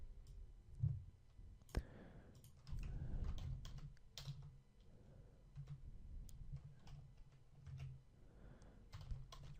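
Code being typed on a computer keyboard during a PHP programming lesson: quiet, close, irregular bursts of key clicks with brief pauses between runs, and no talking.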